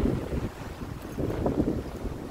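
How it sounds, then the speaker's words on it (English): Gusty wind buffets the microphone beside a lake as a boat bucks whitecaps and big waves, a constant low rumble of wind and surf with no talk. "They're sure bucking the white caps or the big waves today."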